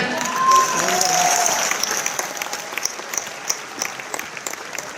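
Audience applause at a business leadership awards event, a dense burst of clapping that peaks early and then thins into scattered claps, with a voice speaking over it.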